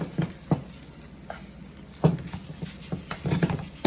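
Singapore curry noodles tossed and stirred in a hot pan: irregular scraping and clattering strokes of a utensil against the metal over a faint steady sizzle, close and moderately loud, with no voices.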